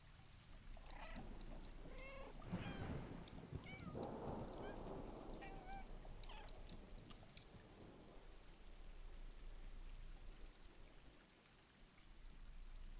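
Cat meowing in the video game Stray, several short soft meows scattered through the first half over a steady rain-like background hiss, fading to quiet ambience later.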